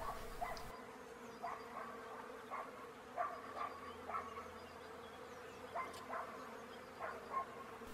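Wild bee colony living in a hollow chestnut tree, a steady low buzzing hum with repeated faint rising tones from passing insects, heard outdoors at moderate distance.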